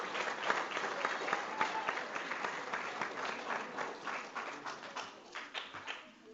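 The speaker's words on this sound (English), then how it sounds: "let's give a round of applause to VP of Communications, Mr. Joe Horrigan." An audience applauds at an event introducing a communications VP, a dense, steady round of clapping that holds for several seconds before tapering off.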